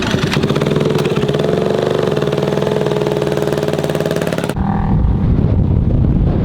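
A Yamaha YFZ 450 ATV engine revs hard and steady in second gear during ramp jumping, then drops suddenly into a rougher, lower note, loud and close.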